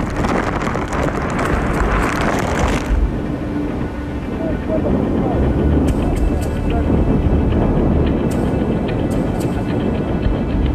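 Bone-chilling wind roars and buffets the microphone at a cave-diving site in freezing cold, a loud continuous rush with no letup.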